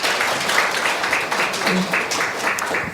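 Audience applause at the close of a lecture by Professor Kim Woo-chang on ethics, the state and tradition: steady, dense clapping fills the room throughout, with some voices murmuring beneath it.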